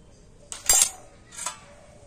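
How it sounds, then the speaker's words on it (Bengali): Dry ingredients, sugar and salt, are stirred in a bowl, giving two or three short clinking, scraping strokes of a utensil against the bowl, close and fairly loud, with no talking. "আর এবার আমি শুকনো উপকরণগুলো একটু মিশিয়ে নেব"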